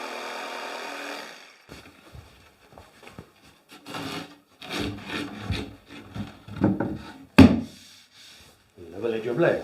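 A piece of MDF being cut for a home bar build, with a run of uneven rasping, sawing strokes that grow louder toward the end, close by and heard alone.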